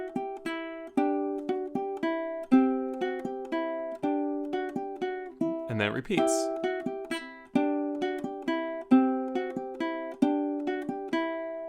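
Ukulele plucks a repeating Carol of the Bells and God Rest Ye Merry Gentlemen medley in a steady rhythmic pattern of bright notes, with a short voice remark partway through.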